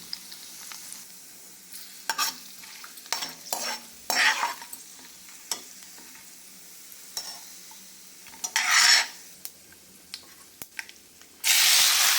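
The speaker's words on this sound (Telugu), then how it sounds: "జీలకర్ర, ఆవాలు, జీడిపప్పు, గరం మసాలా వేసి వేపుకోవాలి." Cumin, mustard seeds, cashews and garam masala fry in hot oil with a soft steady sizzle, broken by intermittent stirring scrapes and a few louder hissing bursts, the last one near the end.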